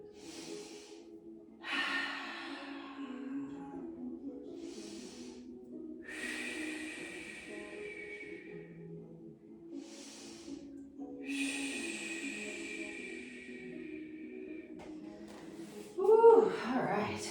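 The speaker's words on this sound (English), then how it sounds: "we're gonna breathe here" Deep breathing during a yoga stretch, with slow, audible inhales and exhales, each lasting a few seconds with pauses between, close and fairly soft, over faint background music.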